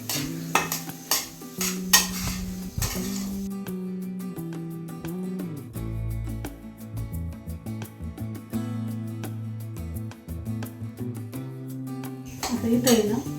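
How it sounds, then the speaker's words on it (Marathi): A spoon stirs and scrapes semolina roasting in ghee in a metal pan, with soft sizzling and clinking of utensils up close. "गरा भाजून घ्यायचा."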